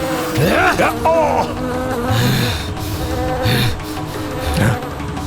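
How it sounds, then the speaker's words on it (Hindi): Many insects buzz loudly and continuously, a dense droning hum close by with wavering pitch throughout. "ये भिनभिनाहट जैसे असंख्य कीट एक साथ ध्वनि उत्पन्न कर रहे हैं"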